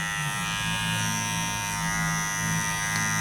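An electric hair clipper fitted with a 1.5 guard trims a mustache, giving a steady, close, loud motor buzz that holds evenly throughout with no talk.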